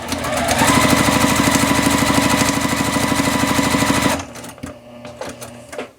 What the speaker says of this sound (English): we'll just line up and stitch a 1/4 inch from that drawn line